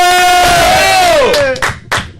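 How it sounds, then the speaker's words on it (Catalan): A studio audience lets out a loud sustained cheer with a rising and falling whooping voice over the crowd, breaking off into a few sharp bursts of shouting and clapping. "rebem amb un fort aplaudiment, Mariona Aloy!"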